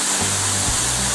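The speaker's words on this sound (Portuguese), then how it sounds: "E aqui está a cachoeira." A waterfall at a green forest retreat, heard as a steady broadband rush of falling water that stays constant throughout, with a low hum running beneath it.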